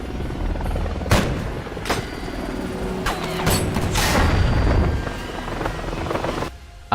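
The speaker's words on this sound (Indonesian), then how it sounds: "Dan akhirnya Swigger berhasil menembak jatuh heli tersebut" Helicopter being shot down in a film action scene, a loud steady rotor roar with sharp bursts of gunfire and impacts cutting through, ending abruptly as the noise drops away.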